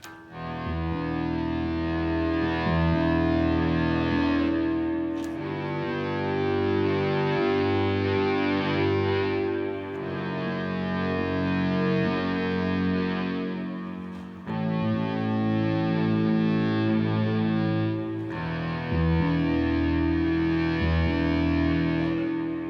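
An electric guitar played through a pedalboard of heavy effects, distorted and shimmering with chorus and echo, sustained chords ringing slowly for a long, brooding song intro.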